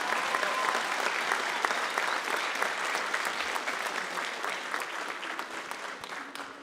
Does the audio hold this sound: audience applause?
yes